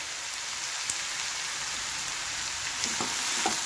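Raw papaya for pickle simmering in a pan, giving a steady, fairly loud sizzling hiss with a few faint pops and clicks, no voices.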